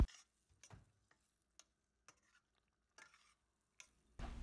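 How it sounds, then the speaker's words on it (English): Spoon stirring brinjal puli kootu, a tamarind eggplant stew mixed with tempering, in a pot: intermittent soft scrapes and clinks spaced irregularly, fairly quiet, with a louder thump at the end. "Mix the kootu very well with the tempering."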